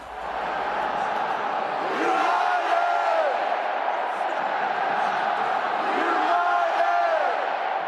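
Fans roaring and cheering at Mercedes-Benz Stadium in Atlanta, home of the Falcons, a loud sustained crowd swell with whoops and shouted voices rising and falling throughout.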